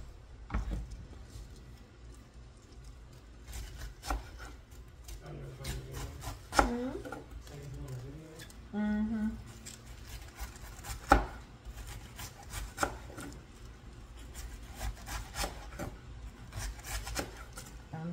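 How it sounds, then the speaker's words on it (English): Cabbage is shredded by hand for a simple dinner, giving repeated close scraping and chopping strokes in an irregular rhythm, with brief quiet talk partway through. "Shredding my cabbage."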